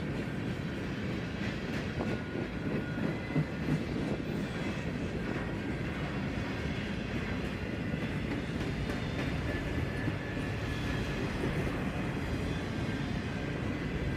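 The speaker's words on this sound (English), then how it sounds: "While the train went by," A freight train on the CC Sub line in Kentucky passes by, a steady roar of rolling wagons with faint clickety-clack, continuous and fairly near throughout.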